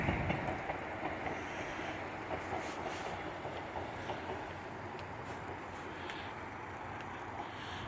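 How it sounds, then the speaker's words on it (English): A train passing on the Workington to Maryport railway line, a steady rumbling roar with faint rhythmic clatter that holds close and loud throughout, carrying some wind noise. "train going past."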